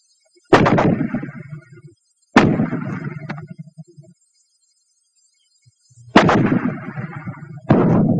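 Fragmentation grenades detonating outdoors during 1943 wartime infantry training: four loud, heavy blasts spaced a few seconds apart, each a sharp crack followed by a rumbling, debris-filled tail, with silence between.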